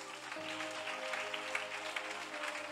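Church congregation clapping together during a Sunday service, a steady dense wash of hands filling the room, with a sustained tone from music or an organ running underneath.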